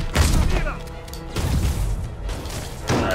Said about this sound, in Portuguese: Olha o tiro!